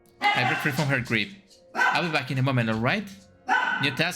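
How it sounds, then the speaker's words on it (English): A pet dog barks in a streamer's room, mostly buried under steady close talk, with short gaps between the spoken phrases. "Sorry about my dog, she decides to bark in the most unnecessary moments."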